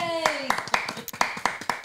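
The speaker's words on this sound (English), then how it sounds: "Let's give the Lord a clap offering" A church congregation at a Sunday morning service claps in a steady rhythm, about one sharp clap every quarter second, fairly close and moderately loud, with a voice speaking and singing over the first part.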